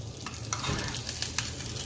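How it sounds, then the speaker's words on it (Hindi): Hot oil with tempering spices and curry leaves sizzles and crackles faintly for chutney, with light stirring and a few small clinks, steady throughout with no talking. "चलिए हम इसमें तड़का डाल देते हैं।"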